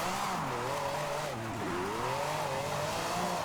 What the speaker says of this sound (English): That's why I love drifting Ferraris in this game.